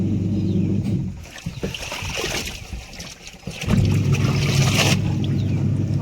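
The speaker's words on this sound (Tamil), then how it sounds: "தண்ணி ஊற்றி இப்படி அலாசிக்கணும்." Clothes are rinsed by hand in a tub of water, giving loud, close sloshing and swishing that eases briefly in the middle before surging again, with no talking.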